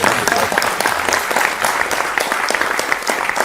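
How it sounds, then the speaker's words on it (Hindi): An audience breaks into loud, dense applause, a sustained clatter of many hands clapping close by throughout, with no voices standing out above it. "अरे ताली तो बजा दिया करो ना"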